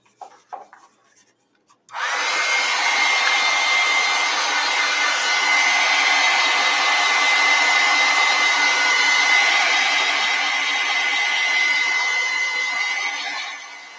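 A hair dryer blows over an acrylic painting, switching on after a few soft handling noises and then running as a steady, loud, close whoosh to the end, with no talking.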